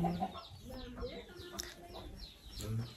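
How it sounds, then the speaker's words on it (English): A guinea fowl in a Namibian village field gives repeated harsh, rhythmic calls close by, with other bird chatter and some background voices mixed in. "It's a guinea fowl."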